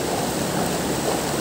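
River water rushes steadily past a fishing spot on the bank, making a close, constant, full-bodied flowing hiss with no pauses.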